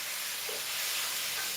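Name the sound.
steak sizzling while frying in butter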